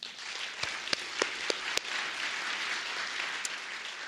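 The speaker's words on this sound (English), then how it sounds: "Give yourselves a huge round of applause." Sustained audience applause after a speaker's thanks at an arts advocacy and community event, a steady wash of many hands with a few sharper nearby claps standing out, fairly even and moderately loud throughout.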